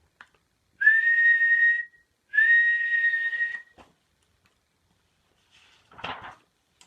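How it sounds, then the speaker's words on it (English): Two long, steady shrill whistle blasts, each about a second, with a brief gap between, followed later by a short rustling clatter. "waving his arms and blowing his whistle"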